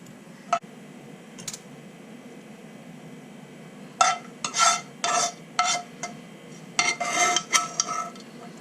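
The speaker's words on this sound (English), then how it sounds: "Now I'll get my teaspoon, grab my crispy bacon bits, and we'll just top each one of those" A metal teaspoon tapping and scraping against a dish while spooning crispy bacon bits onto oysters, with a few isolated clinks followed by clusters of short scrapes and taps, close and clear.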